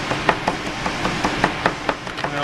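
Knife chopping fresh cilantro on a cutting board, about a dozen crisp, fairly even taps in quick succession, close and clear with no talk.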